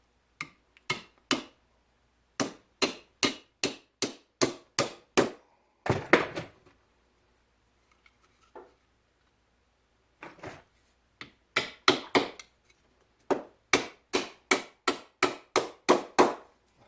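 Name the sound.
hammering nails into wood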